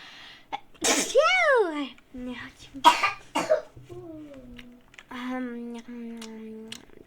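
A child sneezes during a Roblox fashion game session, with loud bursts amid high, chattering child speech and brief coughing.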